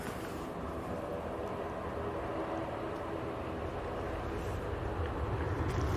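A Ryanair airliner passes at Manchester Airport, a distant, steady low rumble of jet engines that swells slightly toward the end, with no voices heard.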